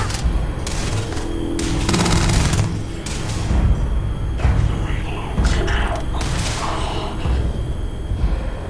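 Gunfire in the sci-fi game Starfield, with bursts of loud booming shots repeating every second or so, heavy and close, while a player talks intermittently.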